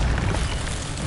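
The Incendio fire spell bursts in Hogwarts Legacy as a dense, continuous roaring whoosh of flame, loud and full throughout the short moment.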